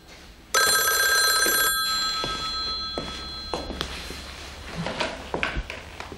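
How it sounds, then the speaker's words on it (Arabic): An old-style telephone bell rings loudly in an indoor scene from an Arabic TV drama, a sustained metallic trill lasting about a second before cutting off, followed by scattered thumps and footsteps as someone moves toward it. "تليفون يا جماعة."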